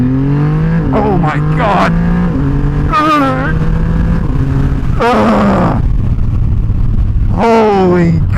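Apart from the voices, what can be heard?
Triumph Rocket 3 motorcycle full throttle acceleration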